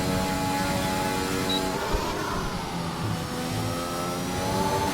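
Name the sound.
papaya McLaren race car engine in racing video game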